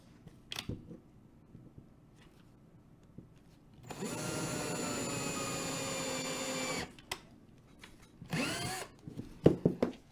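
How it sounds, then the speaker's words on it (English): A power drill bores 1/8 inch holes for dowel rods in small craft bodies, running in a loud steady three-second burst, with handling knocks before and after and a brief second whir near the end. "So we'll go ahead and drill those, and then we can paint our little bodies."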